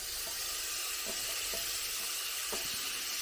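Capsicum added to a pan with tomatoes for masala rice fries in a steady, moderately loud sizzle, with a few faint clicks of stirring and no talk.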